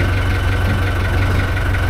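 A tractor engine idles with a steady low rumble and a strong, rapid vibrating pulse from a fault causing heavy vibration, loud and continuous throughout, with no talking.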